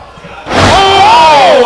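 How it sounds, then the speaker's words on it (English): At an IWL independent wrestling show in Chino, California, a wrestler crashes onto the mat from a back body drop: a heavy slam after a quiet moment, then a loud crowd roar mixed with a commentator's voice. "Oh, big back body drop."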